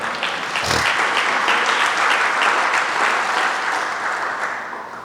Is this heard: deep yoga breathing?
no